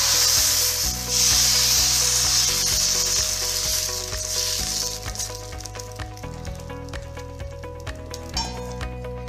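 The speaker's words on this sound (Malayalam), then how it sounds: "വീണ്ടും എണ്ണ തടവിയിട്ട് നമുക്ക് മാവ് ഒഴിച്ചു കൊടുക്കാം." Aval appam batter hits an oiled pan with a bright, hissing sizzle that slowly settles, and a low background hum runs beneath it.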